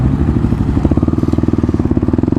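A Kawasaki KLX dual-sport motorcycle runs off-road over grass, its close, loud engine beating in a steady rapid pulse that tightens toward the end, with light rattling from the bumpy ride.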